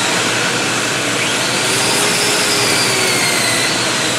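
Sanding with 120 grit sandpaper alongside a running dust vacuum: a loud, steady whooshing roar with a faint whine, continuous throughout and with no talk.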